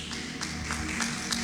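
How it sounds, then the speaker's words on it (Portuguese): A church congregation claps together in a short burst of scattered, overlapping hand claps, fairly close and moderately loud, with no clear talking over it. "Bate uma salva de palmas e toma teu assento"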